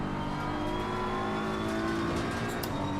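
A race car in Assetto Corsa Competizione on the American Track Pack, its engine droning steadily at high revs with a faint tyre hiss, loud and continuous throughout.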